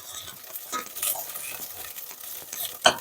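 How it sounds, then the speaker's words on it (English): Shredded coconut toasts dry in a pan for satay tofu, stirred with soft scraping and light rustles, ending in one sharp clink of spoon against metal near the finish. "we get the flavour out of that coconut by toasting it a bit in the pan"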